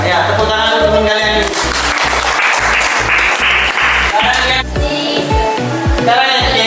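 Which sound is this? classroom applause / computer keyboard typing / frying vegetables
classroom applause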